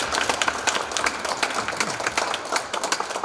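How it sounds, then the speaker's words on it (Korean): Audience applause fills a 20th-anniversary ceremony at a public library in Korea: steady, dense clapping from a crowd, loud and continuous throughout, with no voices over it. "세 분께 다시 한번 큰 박수 부탁드리겠습니다."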